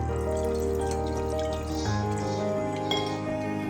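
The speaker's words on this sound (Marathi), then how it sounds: "आता इथे मी चाळणीत नूडल्स ट्रान्सफर केले आणि त्यावर टाकणार थंडगार पाणी" Cold water poured over boiled noodles in a strainer, with a continuous splashing flow and a few light metallic clinks from the strainer, close by and alone.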